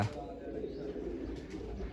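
A pigeon perched on a roof coos softly in a short, low, throaty call, faint and close, with a voice talking over it.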